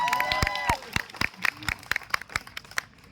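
Scattered audience clapping for people who sang at a Hindi storytelling event, a handful of sharp, uneven claps close by, with talking and a sung phrase at the start.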